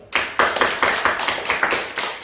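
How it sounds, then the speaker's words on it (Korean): A church congregation at a Korean Sunday service bursts into loud, close applause in a strong, even clapping rhythm that keeps up without pause. "다시 한번 하나님께 감사 박수."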